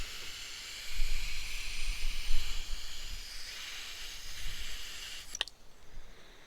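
Butane gas hissing while a blue-flame torch lighter is refilled from a canister: a close, breathy hiss that swells and fades over several seconds, then stops with a short sharp click.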